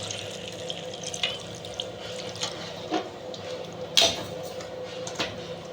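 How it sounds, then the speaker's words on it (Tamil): Water runs steadily into a pan of chicken gravy with a soft, continuous splashing wash, a few brief clinks and knocks standing out over the flow. "தேவையான அளவு தண்ணி ஆட் பண்ணிக்கோங்க"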